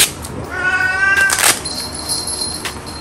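A cat meows loudly and insistently up close, a drawn-out wavering yowl followed by a shorter cry, with no other sounds around it.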